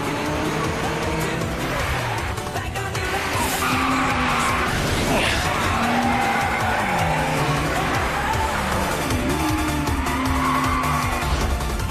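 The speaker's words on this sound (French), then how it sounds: "Tout en dérapage, hein?" An anime street-racing car drifting, loud engine roar with long sliding tire squeals rising and falling over a busy music and effects mix, sustained throughout.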